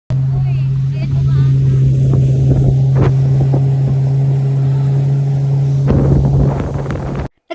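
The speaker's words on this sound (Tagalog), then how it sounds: "Pipikapin kayo doon ng speedboat na katulad nito." A speedboat runs across the water on a short ride in Singapore, its engine a loud, steady drone throughout with wind and water rush layered over it and a few sharper knocks and splashes.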